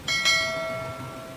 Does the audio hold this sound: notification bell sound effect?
yes